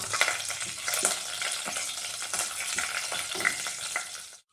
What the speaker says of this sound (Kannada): ಇದು ಸ್ವಲ್ಪ ಚೆನ್ನಾಗಿ ಬಾಡಲಿ, ಚೆನ್ನಾಗಿ ಸಿಡಿಲಿ ಇದು.